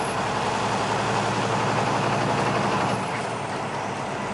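A big blue truck downshifting while driving past storm debris, a steady loud engine drone and road roar throughout, its pitch shifting slightly late on as the gear changes.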